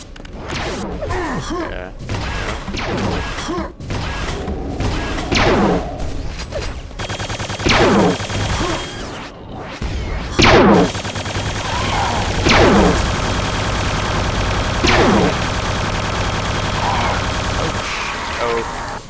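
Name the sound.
boss shooting at the player in Quake 2, video game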